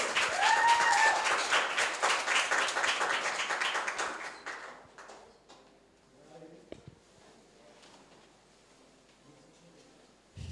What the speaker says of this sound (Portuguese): aplauso para Gregory. Aplauso.